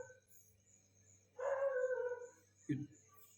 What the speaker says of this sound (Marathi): गावामध्ये कुत्री न भोकत होती मोठ्या मोठ्यानं